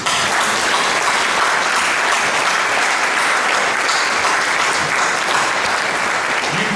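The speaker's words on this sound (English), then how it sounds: "I personally want to give all of you a round of applause" At a 2017 Tullahoma Veterans Day ceremony, an audience gives veterans a loud, sustained round of applause, continuous dense clapping that holds steady throughout without voices.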